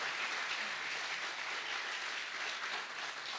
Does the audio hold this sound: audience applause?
yes